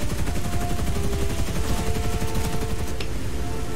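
Rear gunner of a British biplane bomber in War Thunder fires a machine gun, rapid continuous loud rattling bursts over a steady droning engine, with no talking.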